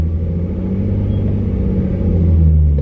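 A project car with a manual transmission pulling away slowly in first gear: a loud, close, low engine rumble that stays steady, then builds slightly toward the end.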